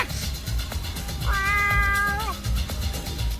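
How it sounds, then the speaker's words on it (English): A single clear, drawn-out cat meow rises and falls in the middle, heard over a continuous low rumbling background noise. "So would we say that was the cat's meow?"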